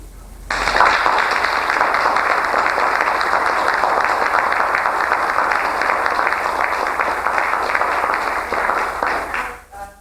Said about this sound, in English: please join me in applauding our flag.